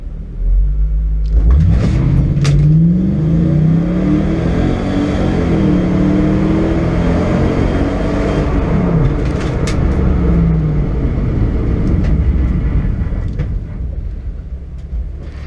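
A Mercedes CLK 430 accelerates hard during a performance timing run, its engine rising through the revs in a loud, close, continuous roar with a gear change partway before easing off at the end.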